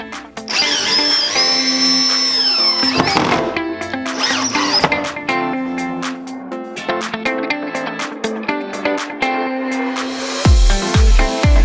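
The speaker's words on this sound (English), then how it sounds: "then just go ahead and we will drive our screws" A power drill drives screws into wood for a tool chest coffee table on casters, its motor whining up in several separate bursts with pauses between, and a few clattering knocks at the end.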